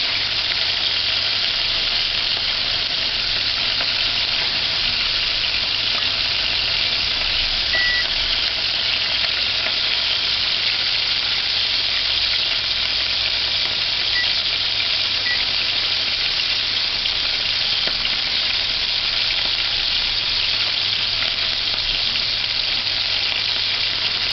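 Chicken pieces fry hard in hot oil on a stove while ackee and chicken is cooked, giving a loud, steady, dense sizzle with constant spattering that runs unbroken throughout, no voices.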